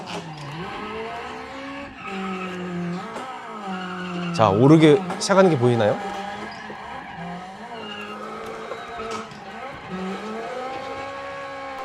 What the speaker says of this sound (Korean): 제가 어디서 한번 그냥 차를 돌려보겠습니다